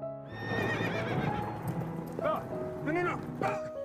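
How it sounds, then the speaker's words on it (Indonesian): Horse neighing loudly and repeatedly with quick hoof clatter as it bolts away, close and prominent, with a few whinnies rising and falling over the galloping. "kuda kesayangannya juga kabur dari tempat tersebut"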